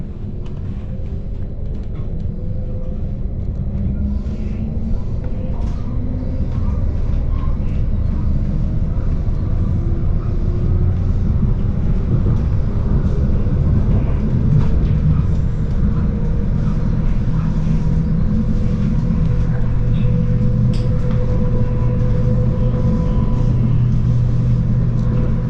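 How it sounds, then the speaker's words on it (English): Steady low rumble and drone of a moving Stadler Flirt regional passenger train on the Ruhr-Sieg Railway, heard from inside, with engine hum and faint rattles, continuous and fairly loud. "And now we can also finally listen to the sound of the train."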